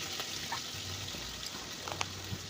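Small cut potatoes fry in refined oil with spices in a pan, a faint, steady sizzle with scattered soft crackles and pops.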